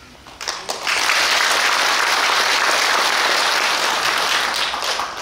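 An audience at a Korean political party's second-anniversary debate bursts into loud applause; a few scattered claps quickly swell into a full, sustained ovation close by.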